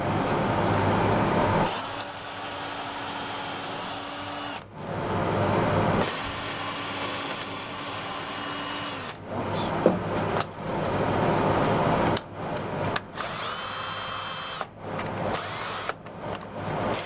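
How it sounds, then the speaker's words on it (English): A power drill bores angled holes close to the edge of a piece of wood while building a radius sanding block jig, heard as several sustained whirring bursts separated by short pauses. "I'm going to drill them at an angle."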